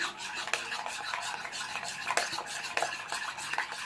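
Homemade coleslaw with pepper is mixed in a bowl, giving continuous close stirring and scraping with irregular clinks of a utensil against the bowl, fairly loud and without talking.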